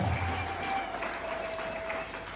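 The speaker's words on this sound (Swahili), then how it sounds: "Mpigie Yesu makofi na huyo aliyekupenda huyo Bwana" Scattered clapping from a church congregation rattles on steadily during a Sunday service, fairly faint and somewhat distant, with a faint tone lingering underneath.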